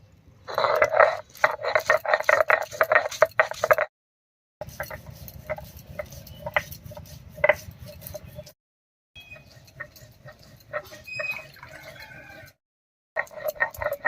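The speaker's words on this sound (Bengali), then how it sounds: "মশলার মধ্যে নিয়েছি কয়েকটা শুকনো লঙ্কা আর কয়েক কোয়া রসুন একসঙ্গে করে বেটে নেব" Dried red chillies and garlic cloves being ground together into a spice paste, a steady rhythmic scraping and knocking in several bursts separated by short pauses, moderately quiet and with no talking.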